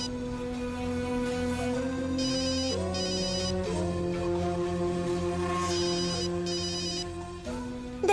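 A telephone ringtone plays a repeating electronic melody continuously, loud and steady, with no voices over it.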